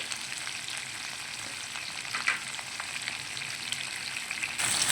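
Tomatoes, drumsticks, ivy gourd, carrots and okra fry in a pan for Andhra-style sambar, giving a steady close sizzle with small crackles and one brief stir midway, no voices.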